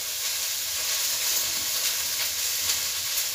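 Onions frying in a pan for a light vegetable soup with carrots and beans, a steady loud sizzle and hiss, close and continuous with no talking.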